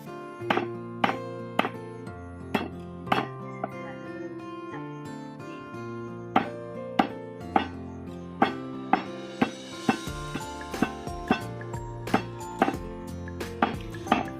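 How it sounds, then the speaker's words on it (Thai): A lingzhi mushroom is pounded in a mortar for chili paste, with steady rhythmic thuds in a close, repeated beat that quickens in the latter half. "ยายจะเอาเห็ดนี่ตำน้ำพริกเนาะ"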